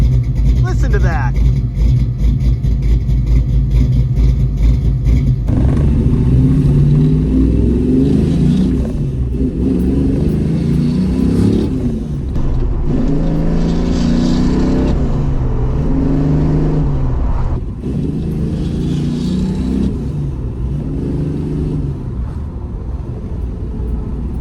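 Dodge Challenger in a stock E-body with a Magnum engine revs repeatedly, a deep loud rumble rising and falling in several throttle blips over steady idle, with a voice talking underneath at times.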